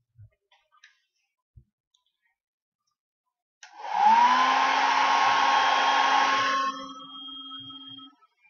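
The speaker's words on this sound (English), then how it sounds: "I'll use the hair dryer to speed this up" A hair dryer switches on after a few quiet seconds and blows steadily with a high whine to dry beard adhesive, then drops to a lower setting before cutting off.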